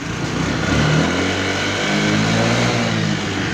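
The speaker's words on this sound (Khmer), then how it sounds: "ម៉ាស៊ីនវាឆេះមកស្ងាត់ល្អបងប្អូនណា" A motorcycle engine runs close by, its steady mid-pitched drone rising and falling slightly as it revs.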